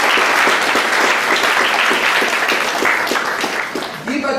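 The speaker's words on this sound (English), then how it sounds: "let us all join together and give a warm round of applause to our chief guest of the day" A hall full of people gives a warm round of applause welcoming the chief guest at a rankers' meeting, steady and loud throughout, easing off as a voice begins near the end.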